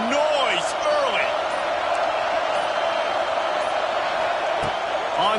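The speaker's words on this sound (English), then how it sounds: "This crowd bringing the energy and noise early." A stadium crowd in the College Football 26 video game gives off a steady, loud roar, with whistles and scattered shouts rising above it. Sharp thuds and squeaks are heard under talk from the game's commentary.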